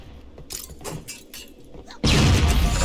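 A sudden loud explosion bursts in Halo: Combat Evolved gameplay, a broadband blast that follows a stretch of quieter clattering and scattered game noises.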